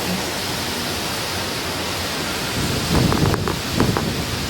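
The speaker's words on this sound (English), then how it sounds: "Hear that wind?" Wind blows outdoors as a steady, full broadband rush that swells into stronger gusts and buffeting thumps near the end, close and moderately loud with no voices.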